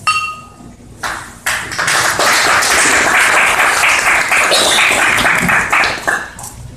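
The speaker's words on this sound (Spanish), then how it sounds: "Extendemos nuestro aplauso para el presidente municipal electo, ingeniero Jorge Vera Hernández." Audience applause welcoming an elected municipal president at a citizen consultation forum, a dense wash of clapping that builds after a short pause and holds loud and steady for several seconds before tapering off.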